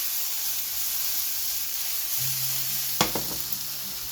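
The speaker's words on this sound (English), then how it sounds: "Now the onions, we want it nice and caramelized onions." Onions and potatoes for a tortilla de papas fry in a pan with a soft, steady sizzle, then a spatula clatters against the pan near the end, close and fairly quiet.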